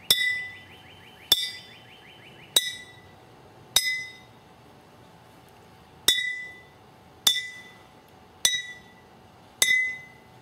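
Glass jars of a water xylophone are struck one at a time, giving eight bright clinking rings that decay quickly, in a group of four, a pause, then four more, close and clear.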